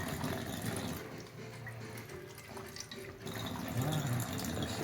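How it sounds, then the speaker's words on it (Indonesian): Water pouring steadily onto a seedbed of organic plants, a soft continuous splashing and trickling that rises again toward the end. "kemudian kita siram. Dan kita siram. Ini penyemaiannya."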